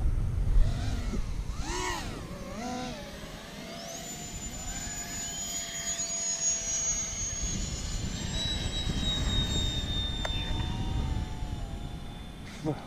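An FMS A-10 Thunderbolt II 70mm electric ducted-fan RC model jet whines steadily overhead, its pitch rising and sliding as it passes at moderate distance, with a second chase jet's tone layered above and faint wind rumble beneath.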